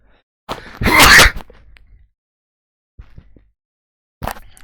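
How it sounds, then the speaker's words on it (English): A single sharp, loud sneeze bursts out close to the microphone, followed by quiet breathy sounds and a short faint noise near the end. "had to sneeze there."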